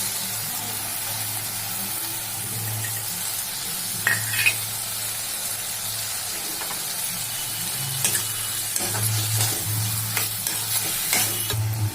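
Vegetable fried rice is stirred in a sizzling pan, a continuous close frying hiss broken by occasional scrapes and knocks of the spoon against the pan, with no one talking.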